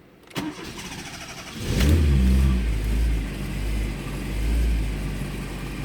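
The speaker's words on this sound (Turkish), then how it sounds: "Evet arabamız çalıştı." A cold Fiat Tempra engine cranks with a sharp click, then catches and revs up to a rough, rumbling idle that rises and falls, close by with no talking.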